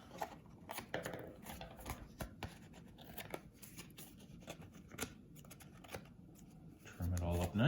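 Soft, repeated snips and crisp cuts of scissors trimming washi tape on a decorated postcard, close and irregular, ending with a louder rustle.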